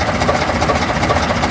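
An old London Routemaster bus engine runs at idle nearby, producing a steady, rumbling diesel chug with a rapid, even rhythmic throb and heavy vibration.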